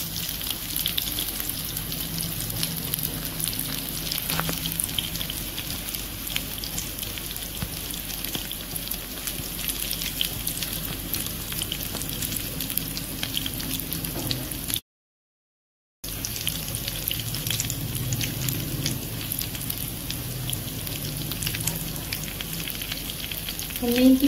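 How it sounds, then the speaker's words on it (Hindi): Chicken shaami kababs shallow frying in a little oil, giving a loud, steady sizzle and crackle that runs nearly unbroken throughout, with one brief gap. "अब टाइम आ गया है कि इनको जो है वो शैलो फ्राई किया जाए।"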